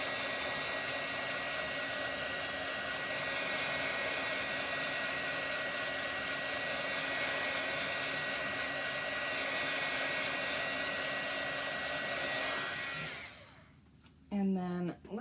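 Heat gun blowing a steady stream of hot air onto chalk paste, a loud continuous whooshing roar that holds for most of the stretch, then cuts off, followed by a few brief handling sounds.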